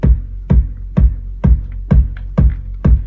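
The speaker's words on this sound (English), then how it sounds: "So I have a kick pulled up, and we're just going to play this kick." A bass-heavy kick drum sample plays in a studio, seven booming hits at a steady pace about half a second apart, each with a sharp attack and a long low decay, loud and alone.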